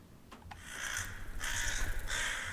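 Crows cawing in the video game Goetia, a few harsh calls in rising, overlapping bursts over a low rumbling ambient bed, fairly close and steady in loudness.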